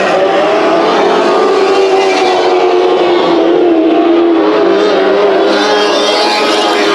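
Sprint cars race at Bakersfield Speedway, a loud, continuous engine roar with a sustained high whine that rises and falls slightly as the pack passes, filling the clip with no break.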